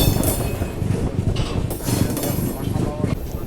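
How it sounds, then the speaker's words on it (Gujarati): A train passing through Kanalus Junction station in Gujarat on a newly doubled, electrified line gives a steady, close rumble with rhythmic wheel clatter throughout. "આપણી ટ્રેન અત્યારે ક્રોસ થઈ રહી છે"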